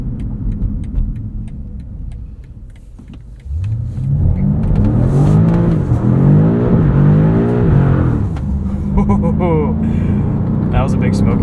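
A 2022 BMW M5 CS all-wheel-drive sedan revs hard while sliding, the engine note climbing and falling in loud sweeping pulls after a quieter stretch of lower rumble.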